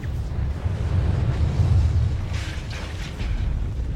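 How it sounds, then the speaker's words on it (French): A propane explosion in the film Freddy vs Jason gives a heavy low rumbling roar that stays loud and sustained, with crackling debris and hissing bursts rising over it toward the end. "Ça, c'est de l'explosion au propane."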